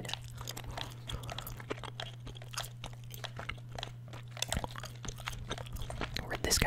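Close, wet chewing of Juicy Fruit gum, soft repeated smacks and squelches in an irregular rhythm over a low steady hum, with faint controller clicks scattered through.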